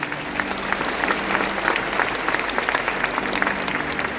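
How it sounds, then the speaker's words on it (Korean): Church congregation at a pastoral ordination service breaks into loud, sustained applause, a dense crowd of hands clapping evenly throughout, filling the room. "이제 청중을 향해 돌아서실 때 큰 박수로 축하해 주시기 바랍니다"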